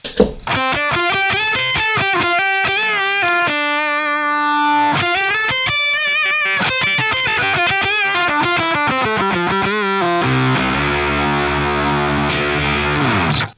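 An electric guitar runs through a Joyo Voodoo Octave Fuzz pedal, giving thick, loud octave-fuzz tone across quick picked riffs and bends, then a held distorted chord near the end, played alone with no voices.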